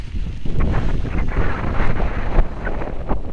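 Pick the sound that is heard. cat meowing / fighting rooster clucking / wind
wind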